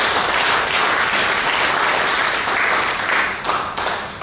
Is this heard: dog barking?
no